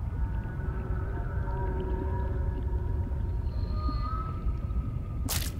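Creature calls from the underwater game Subnautica Below Zero: long, wavering whale-like tones drifting over a steady low ambient rumble, with a higher short cry near the end and a brief bright burst at the close.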